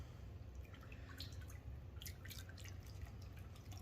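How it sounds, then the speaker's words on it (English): Vegetable broth is poured into a cast iron skillet on a kettle grill, giving a soft, faint, continuous trickle with scattered drips and light sizzling, no voices. "I want to add a little bit of some vegetable broth in here."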